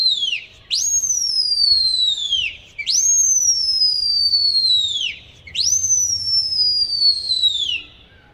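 Three long, loud whistles, each sliding downward in pitch and lasting about two seconds, separated by short pauses over a low outdoor rumble.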